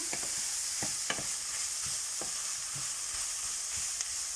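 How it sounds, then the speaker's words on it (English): Beef and golden-brown onions sizzle steadily in a pan while paprika and spices are stirred through them, with a continuous hiss and repeated soft scraping strokes of the spoon. "put it all in, mix it in with your beef and your onions that are now a nice golden brown"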